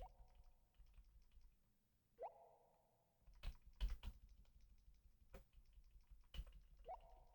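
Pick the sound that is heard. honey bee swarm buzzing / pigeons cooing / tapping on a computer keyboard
tapping on a computer keyboard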